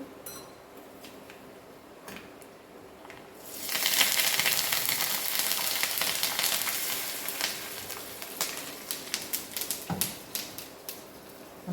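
Tempering spices sizzle and crackle in hot oil, a sudden loud hiss bursting in after a quiet start and then sputtering with sharp pops.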